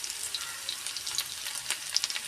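Dried red chilies and small shallots crackle in hot oil with mustard seeds for a Kerala pineapple pulissery tempering, a steady close sizzle with scattered sharp pops and no voices.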